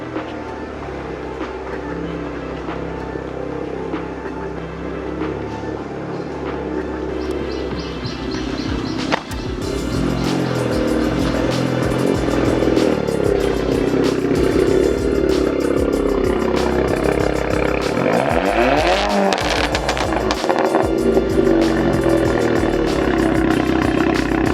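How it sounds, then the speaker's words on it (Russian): Diesel Volkswagen Golf GTI with its muffler removed, idling with a loud, raw rumble close by, then revving harder and staying loud with rising and falling engine pitch through the rest, with no talk. "Олег взял нового гольфа GTI дизель. Поставил туда глушитель, выбросил глушитель и теперь пугает всех местных жителей."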